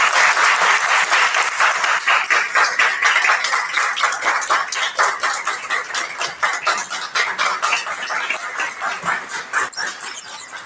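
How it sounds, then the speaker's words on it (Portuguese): Loud, sustained audience applause at a Brazilian legal book event, dense rapid clapping from many hands close by, continuing steadily for about ten seconds with distinct individual claps showing through. "vou pedir aqui uma salva de palmas"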